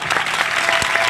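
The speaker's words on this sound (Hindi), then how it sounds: "यीशु के नाम में ताली बजा।" A congregation at a church meeting claps together in a dense, loud burst of applause that holds steady throughout, with no speech.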